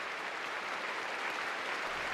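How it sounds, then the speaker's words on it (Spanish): A large crowd of university rectors, professors and intellectuals gives a long, sustained ovation after Pope John Paul II's speech, an even, hissing wash of clapping heard from a distance. "6 minutos de aplausos rubricaron la intervención del pontífice"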